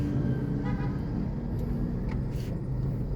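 Heavy road traffic in Consolacion, with a constant low rumble of engines and a few brief horn toots rising faintly above the roar.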